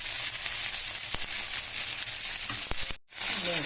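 Rava dosa batter fries in oil on a pan, giving a steady close sizzle with faint crackles and a brief break near the end.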